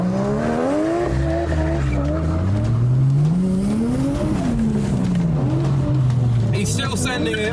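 A 500hp Toyota Chaser accelerates hard away from a car meet, its engine rising and falling through revs with tire squeal, loud and close, while people talk over it.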